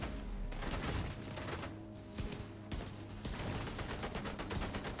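Enemy gunfire crackles in a Division 2 PvP match, with dense overlapping shots in continuous rapid bursts, close and busy, and no voices.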